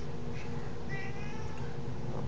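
A domestic cat meows several times in short, clear calls over a steady low background hum, fairly close and moderately loud.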